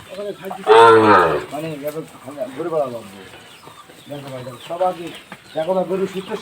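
A Sahiwal bull calf gives a loud, drawn-out moo, followed by lower, shorter lowing calls among other animal sounds nearby.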